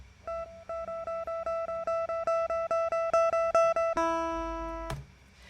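An unprocessed electric guitar plays a fast run of clean, repeated plucked notes, then rings out on a final sustained chord that is cut short.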